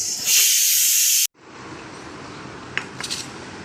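A pressure cooker on a home stove cooking dal and rice gives a loud, close steam hiss that cuts off abruptly, followed by quieter kitchen background with a few faint clinks.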